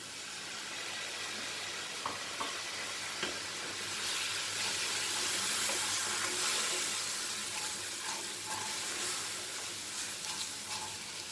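Masala with garam masala and turmeric roasts in oil over medium heat for an arbi curry, giving a faint, steady sizzle with occasional light stirring clicks.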